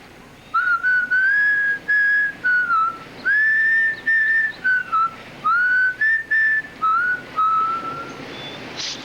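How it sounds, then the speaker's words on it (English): A person whistles a tune alone: clear, bright, sustained notes in short melodic phrases with brief pauses between them, running steadily for about eight seconds. "can you whistle it for me so I can kind of hear how it goes in your head?"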